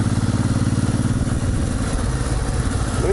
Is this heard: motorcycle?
yes